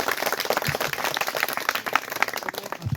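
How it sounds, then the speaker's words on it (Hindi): Children clap together in a room, a dense and steady patter of hand claps heard up close with no talking over it. "तो अब ज़्यादा ताली बजा दो।"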